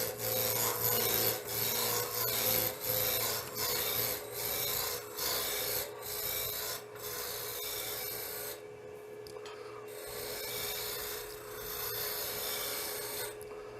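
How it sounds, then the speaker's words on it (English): A spindle roughing gouge shaves a spinning wood blank on a lathe, giving a steady close scraping rasp with a constant low motor hum beneath, easing and thinning out toward the end. "I'll just use the spindle roughing gauge initially, just to take that down to a cylinder."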